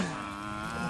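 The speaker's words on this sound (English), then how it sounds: "they're all pretty much mooing at the same" A herd of a couple of hundred cattle mooing together in an open field, their overlapping calls blending into a continuous droning chorus.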